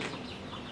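Native country chickens clucking on a small farm, a soft, steady murmur of low clucks lasting under a second, faint and somewhat distant with no talking.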